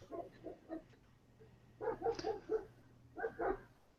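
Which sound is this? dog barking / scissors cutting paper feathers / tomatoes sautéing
dog barking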